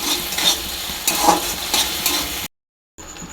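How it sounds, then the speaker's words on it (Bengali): Peas and potatoes sauté in a wok, with rhythmic scraping stirs over a steady sizzle. The sound cuts to brief silence and then returns with a faint tone. "কড়াইতে মটরটা দিয়ে দিয়েছি, এবারে মটরটা কষছি।"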